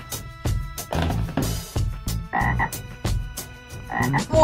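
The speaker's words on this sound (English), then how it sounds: "Frog." A frog croaks in a steady series of short, low, pulsing calls, about a dozen close and clear croaks in an even rhythm, no voices.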